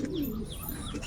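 A pigeon in a home pigeon setup gives a single short, soft coo, close by and alone.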